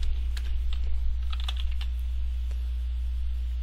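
Steady typing on a computer keyboard during a coding session, a run of light, close key clicks in an uneven rhythm, with a few sharper taps standing out above a quiet background hum.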